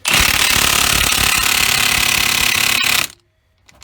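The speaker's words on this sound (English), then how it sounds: "I got it cranked down pretty tight with the impact gun right now." A loud impact gun hammers away in a rapid continuous burst for about three seconds while tightening during steering gear replacement on a 2003-2008 Dodge 2500/3500 truck, then cuts off abruptly into near silence.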